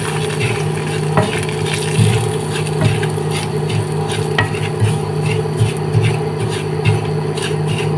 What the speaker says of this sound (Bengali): তেলটা গরম হয়ে এসেছে, এখন দিয়ে দিচ্ছি এখানে সুজি 1/2 কাপ পরিমাণ। সুজিটা ভেজে নেব একটু।